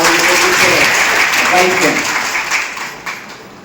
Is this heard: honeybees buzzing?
no